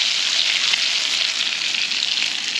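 Food sizzles steadily in hot fat in a pan at a wild camp in an Italian vineyard, a dense continuous crackle with no talk over it.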